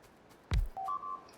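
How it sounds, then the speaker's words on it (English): A low thud drops away, then two short electronic tones sound in quick succession, clean and fairly quiet: the Factorio alert for an outpost being destroyed. "that's the sound of the outpost getting destroyed"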